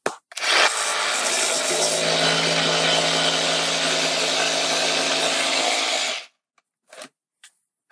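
A jigsaw cuts a melamine board in one continuous, loud, rasping run of about six seconds, then stops, followed by a few brief knocks.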